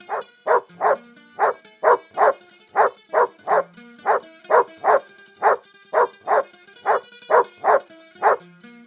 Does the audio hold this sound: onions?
no